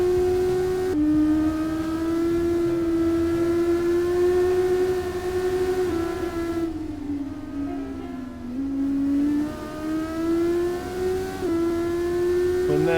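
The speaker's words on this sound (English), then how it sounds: "Just let the car roll through corners" Formula 1 car engine in a racing video game at Jeddah, Saudi Arabia, a steady high whine held through the corners, pitch dipping and climbing again as the car slows and accelerates, loud and continuous with no talk.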